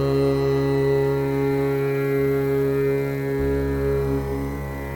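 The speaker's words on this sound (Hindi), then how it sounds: "ऐसे ध्वनि है जैसे तानपुरे की हम प्ले करेंगे" A tanpura drone sustains steadily, a rich, even hum with shimmering overtones that never breaks, playing alone and fairly loud.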